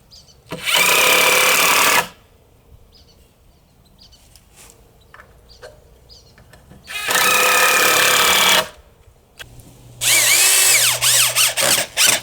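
Power drill driving screws to fix the legs onto a homemade wooden fish tank stand, three loud whirring bursts with quiet pauses between, the last one stuttering in short pulses as the screw seats.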